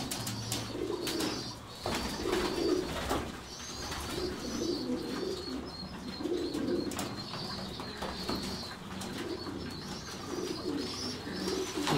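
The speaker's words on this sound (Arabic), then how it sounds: "بص الحمام بيبقى مستمتع ازاي اصلا وهو بيستحمى" Pigeons bathing, with continuous low rolling coos from several birds over a rustling, splashy background, steady and close throughout.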